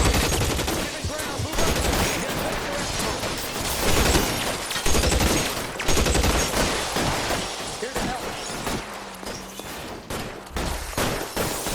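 Heavy gunfire in the video game L.A. Noire: dense, sustained volleys of shots crackling almost without pause, loud and close throughout.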